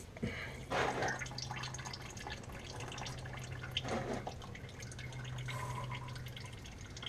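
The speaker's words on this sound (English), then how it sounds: "Okay, so I spilled a couple drops. It's going in the drain pan." Motor oil drips into a drain pan beneath a 2006 Jeep Grand Cherokee during an oil change, a few soft splashy drops spaced seconds apart over a steady low hum.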